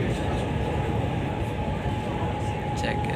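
Interior of a Lahore Orange Line metro train in motion, with a loud, steady rumble and rail noise throughout and faint high squeals near the end as another train passes.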